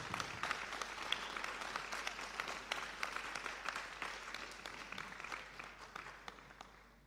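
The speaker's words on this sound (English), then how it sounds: "Clap him, please, clap him." A school audience applauds to welcome a guest speaker at a university GIS Day event, a steady wash of many hands clapping at moderate distance that slowly tapers off.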